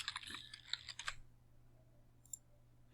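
A brief burst of quick key clicks on a computer keyboard as a sheet name is typed into Revit, close and soft, followed by near silence and one faint click.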